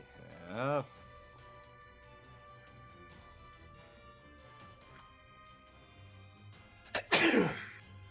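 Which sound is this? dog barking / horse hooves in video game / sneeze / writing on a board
sneeze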